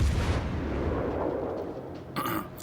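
Heavy ship guns fire in the naval battle game World of Warships Legends, opening with a deep booming blast that rumbles on, followed by a sharper crack near the end.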